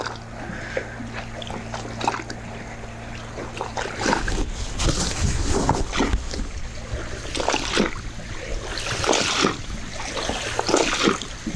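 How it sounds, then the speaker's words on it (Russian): Sea surf after rain in windy weather, with waves washing and splashing near the shore in a steady broadband wash, surging louder in bursts from around the middle onward. "Прибой."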